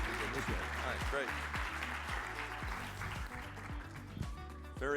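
Applause at a startup competition semi-final fills the room, a wash of many hands clapping, with people talking over it and rhythmic thumping music underneath.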